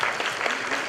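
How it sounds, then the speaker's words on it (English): A brief burst of audience applause for two women at a student induction program, dense clapping at moderate volume with no distinct voices. "A big round of applause to both these ladies."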